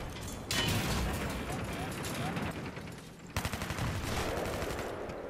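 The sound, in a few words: G36C rifle gunfire in video game Battlefield 3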